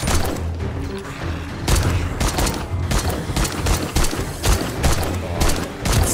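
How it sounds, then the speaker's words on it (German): Dense gunfire from the zombie survival video game 7 Days to Die during a blood moon night, with rapid loud shots and booming bursts packed closely across the whole stretch, and no talking. "Versuch den jetzt mal mehr in die Köpfe zu schießen, um Munition zu sparen."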